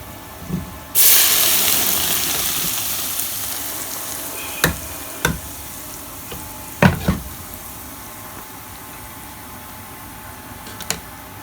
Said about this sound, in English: then I leave it to literally simmer and everything, for everything to simmer up